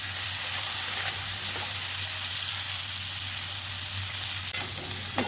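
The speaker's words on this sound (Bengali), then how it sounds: "এঁচড়গুলোকে এই তেলেই ভেজে নেব" Pieces of young jackfruit frying in oil crackle and sizzle in a steady, close, hissing wash, with a few faint stirring knocks and no speech.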